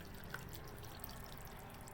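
Normal warm water, not boiling, pours into banana cake batter in a mixing bowl, giving a soft liquid splash with light drips and no talking.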